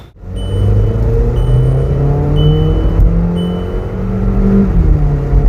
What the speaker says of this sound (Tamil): எக்ஸாஸ்ட் வந்து சூப்பராக இருக்குது பாருங்கள் வண்டியில்